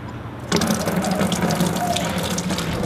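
Blonde ale wort starts gushing through a strainer after a brief quiet moment, then keeps pouring in a loud, steady splashing stream close by during homebrewing.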